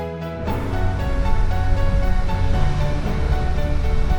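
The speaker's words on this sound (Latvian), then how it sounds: "Te okeāna bangojošie viļņi atsitas uz granīta akmeņiem." Ocean waves crash on granite rocks at Anse Lazio on Praslin in the Seychelles, a loud, continuous roar of surf with no voices.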